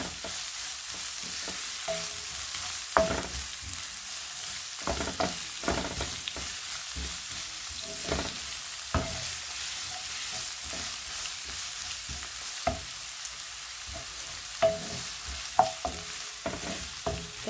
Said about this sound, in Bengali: এখন আমি ক্যারটটা দিয়ে দিব একটু আগের থেকে